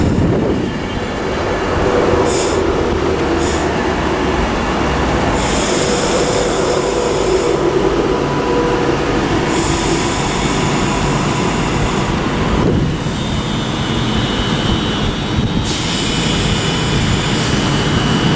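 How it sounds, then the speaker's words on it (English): Virgin class 390 train, unit 390.042, bound for London Euston arrives at Haymarket station, a loud continuous electric rumble and whine with brake and wheel noise rising and falling throughout, no talk. "arriving now is the 1657 Virgin train service to London Euston with"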